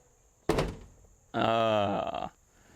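A single solid thunk of a pickup truck door shutting on an old, high-mileage farm truck, followed by a short buzzing, voice-like hum; the setting is otherwise quiet.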